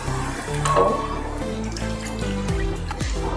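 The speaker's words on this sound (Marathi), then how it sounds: "2 वाटी आपण पाणी घेऊया." Water is poured from a bowl into a cooking pot for mango modak dough, a close, continuous trickle with a shifting pitch as the pot fills. No one speaks.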